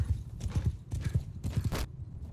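A horse's hooves clip-clop in quick, uneven bursts of hoofbeats in the video game Mount & Blade II: Bannerlord, fairly faint, with no talk.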